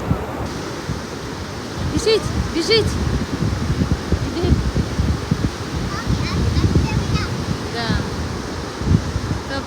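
Steady gusting wind at a beach buffets the microphone over a broad roar, while a few voices speak briefly, including a short call near the start.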